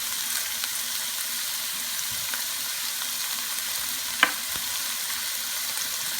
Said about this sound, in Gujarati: તો હવે અહીંયા આપણે જરાક આપણી ડુંગળીને તરાવા દઈશું કે એની ફાઇન સુગંધ નીકળે